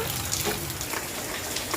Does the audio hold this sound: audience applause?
no